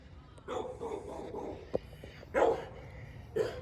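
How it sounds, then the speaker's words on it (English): A hound barks in a few loud, separate bursts near a delivery stop, with softer whimpers and yips between the barks. "The hound's barking."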